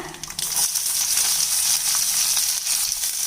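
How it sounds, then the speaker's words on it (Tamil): Chopped shallots hiss and crackle as they hit hot oil while making bitter gourd fry, a bright, continuous sizzle up close with no one talking. "இப்போ சின்ன வெங்காயம் நறுக்குனது இதில் சேர்த்துடலாங்க"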